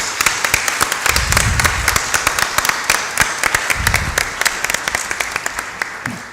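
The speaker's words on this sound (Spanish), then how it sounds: "el aplauso para esas 80 personas" Conference audience at an ethics and algorithmic fairness panel gives a brief round of applause, with individual claps clearly audible and a few voices murmuring underneath.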